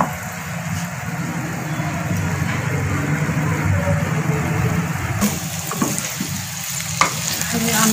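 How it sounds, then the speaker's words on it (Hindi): Egg frying in a pan for restaurant-style vegetable fried rice, a steady, fairly loud crackling sizzle with a low rumble underneath and a brief sharp clink near the end. "बस इस तरह फ्राई होने दें"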